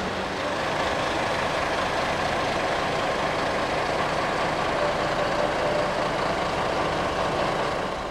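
A 27 Trans intercity bus on the Jakarta–Malang route runs its engine while parked at the station, a steady broadband rumble that stays close and unchanging throughout with no voices.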